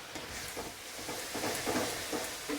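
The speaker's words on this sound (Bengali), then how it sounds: "ভালো করে মিশিয়ে দিতে হবে থোড়টার সাথে নারকেলটাকে" Banana stem and grated coconut stirred together in an oiled pan: a faint, soft sizzle with light scraping strokes of the spoon.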